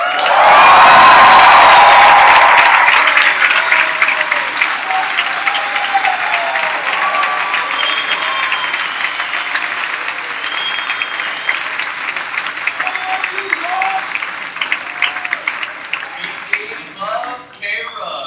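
Loud audience applause with cheering and whoops swells at once, then keeps up as sustained clapping from a large crowd, thinning toward the end.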